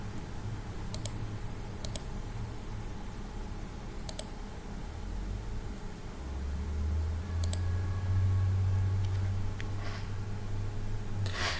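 Computer mouse clicks while drawing a rectangle in FreeCAD: a few sharp, close clicks spaced apart over a steady low hum, with no voices.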